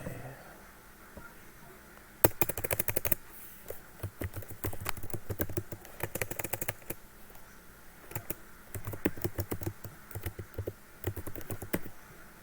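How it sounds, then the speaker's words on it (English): Rapid bursts of typing on a computer keyboard during a late-night chat, dense clattering keystrokes starting after a quiet moment and continuing in fast runs with brief pauses, close and fairly loud. "You really think I'm hard on my keyboard, don't you? But I'm not. I just type fast."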